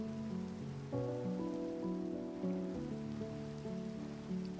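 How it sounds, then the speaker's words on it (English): Steady rain in the video game Minecraft, a soft continuous hiss running beneath sustained tonal game music for the whole stretch. "A rainy day."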